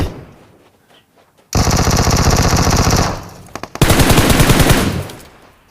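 Loud sustained automatic gunfire in the mobile battle royale game PUBG Mobile, two long bursts of rapid shots separated by a short gap with a few single cracks, close and dominant with no talk.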